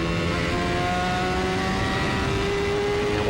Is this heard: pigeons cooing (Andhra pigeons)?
no